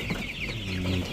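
Young chicks offered for sale on a poultry farm cluck and cheep in a steady close chorus, with low rooster-like calls rising near the end and no voices over them.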